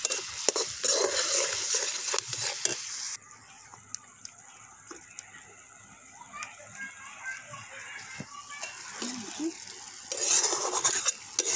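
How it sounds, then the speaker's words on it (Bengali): Spice masala sizzles in hot oil for a chicken and potato curry while a utensil repeatedly scrapes and stirs the pan with metallic clinks, and voices chatter faintly in the background. "মশলাটা ততক্ষণ কষাবো যতক্ষণ তেল ছেড়ে দেয়"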